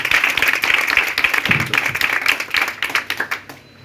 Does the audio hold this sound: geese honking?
no